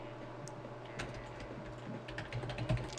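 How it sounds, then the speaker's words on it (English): Fast, steady typing on a computer keyboard, with close, light key clicks over a low background hum and no talk. "To do that, you would type in move"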